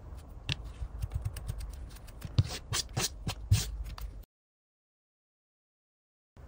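Scissors trim the short wool felt muzzle of a needle-felted American Cocker Spaniel, giving quick, close, crisp snips in an irregular rhythm that stop abruptly, followed by silence.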